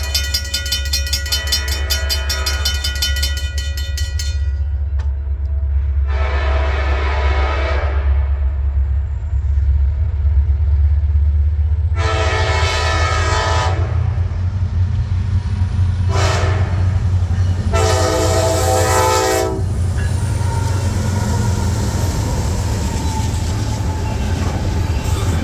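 A southbound freight train of trash cars and auto racks rumbles past, its horn sounding in several loud blasts of varying length over the continuous heavy rolling roar of the wagons.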